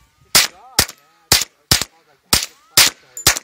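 Rapid gunfire rings out at Panoche Hills: seven sharp, loud shots in a quick, slightly uneven rhythm, each cracking out alone over a quiet background.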